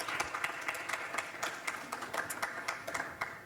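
Audience applause welcoming two visiting artists at a talk event, a steady patter of many hands clapping at moderate distance, filling the room for a few seconds with no voices.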